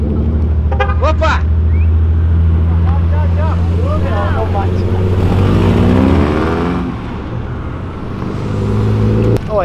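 Volkswagen Passat CC fitted with Ferrari brake calipers accelerating away from a car meet, engine rising in pitch as it pulls off and fades, with people talking and shouting over it.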